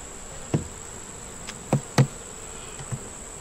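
A thin, steady buzz of honeybees at an open hive hangs in the air, broken by a few dull knocks and bumps close by.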